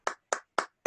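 Video-call participants clap in unison, four sharp, evenly spaced claps heard through compressed call audio, each a crisp burst with a quick decay and silence between.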